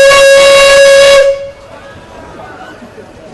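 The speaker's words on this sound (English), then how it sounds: "we are going to be blowing the whistle on the Nichols and Shepard steam engine" A Nichols and Shepard steam engine sounds one long, loud, steady whistle blast at a pioneer days parade, cutting off abruptly and leaving quiet outdoor ambience.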